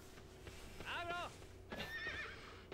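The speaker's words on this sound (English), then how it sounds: "Agro's response is just to neigh angrily" A horse in the video game Shadow of the Colossus gives an angry neigh, a wavering whinny followed by a second shorter one about a second later, clear and close over low background hum.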